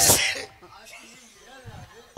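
A woman lets out one sharp, loud sneeze right at the start, then people talk quietly afterward.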